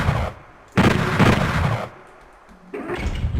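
Handgun fire at switches in Doom 64 Retribution, run in GZDoom: two loud bursts of gunfire with a booming tail, a quieter gap between them, then a lower rumble, with no talking.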